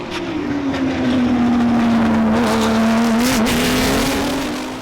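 Porsche 997 GT3 Cup race car, the TRG #66 Grand Am machine, holds a loud, steady engine note near by with a slight dip and recovery in pitch, alone without talk.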